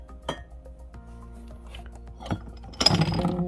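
Old glass mason jars clink in a quiet warehouse, with a few separate light taps followed by a louder, rattling cluster of glass knocks at the end.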